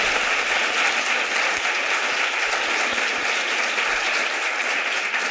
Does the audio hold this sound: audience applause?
yes